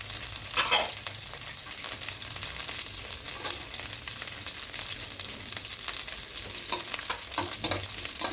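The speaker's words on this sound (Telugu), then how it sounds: "ఆయిల్లో జీలకర్ర ఫ్రై అవుతుంటే మంచి స్మెల్, అరోమా అనేది వస్తుందన్నమాట." Cumin seeds frying in hot oil for jeera rice, a steady close sizzle with scattered crackles and occasional stirring scrapes throughout, no talking.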